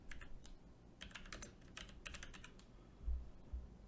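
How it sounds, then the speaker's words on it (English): Quick, irregular clicks of typing on a computer keyboard, fairly quiet and close, with a couple of soft low thumps near the end and no talking. "Let me just type it out."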